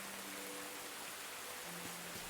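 Steady rain falling in the hobbit life game Tales of the Shire, a soft even hiss that stays constant throughout, with faint low tones in the background.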